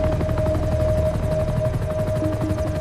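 Helicopters flying low toward Abbottabad, Pakistan at night give a loud, continuous rotor thump with a rapid pulsing chop and a droning engine whine, steady throughout.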